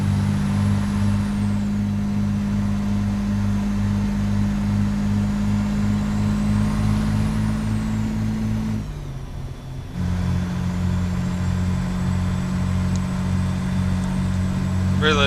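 A Kenworth W900A truck in American Truck Simulator, its engine droning loud and steady with a deep rumble that briefly dips and recovers, as if shifting gear, before pulling on again.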